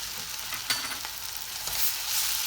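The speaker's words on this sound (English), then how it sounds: "We stir it with the salt." Fried onion seasoned with salt and turmeric being stirred in a pan for an aubergine curry, a soft continuous sizzle with a few scraping stirs, close and fairly quiet.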